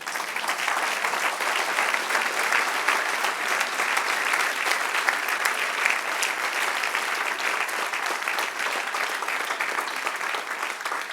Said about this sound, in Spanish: Den un aplauso al que vive.